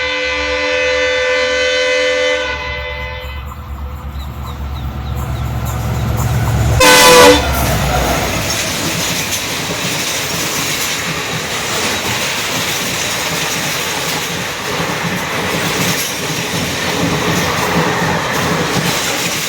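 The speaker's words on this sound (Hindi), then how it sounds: "ये थोड़ा ट्रेन जा रही है तो उसकी थोड़ा आवाज़ कम कर लो" A train rumbles past close by, with a loud horn blast partway through and steady rolling, rattling noise continuing afterward.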